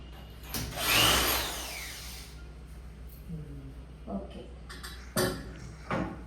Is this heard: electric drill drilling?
yes